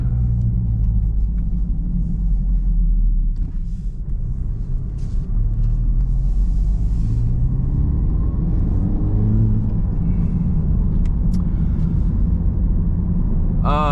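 A Honda Civic Type R FL5 drives along with a steady, loud low engine drone and road rumble heard from inside the cabin, rising and falling slightly with throttle, with a faint turbo whir and no talking.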